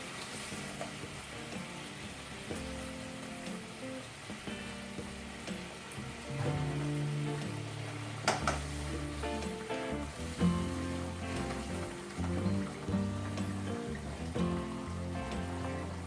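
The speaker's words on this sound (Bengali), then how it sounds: "ঝোলটা ফুটে উঠেছে, এবার আমি মাছগুলো দিয়ে দেবো" Rohu fish pieces go into a bubbling curry in a pan, giving a quiet sizzle and steady bubbling with a few soft knocks, low in level beneath background music.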